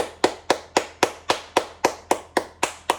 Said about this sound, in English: Clap it up for Niaya.